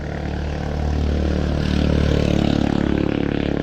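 Motorcycle engine runs steadily close by with a throbbing, rattly drone that grows slightly louder, no talk over it.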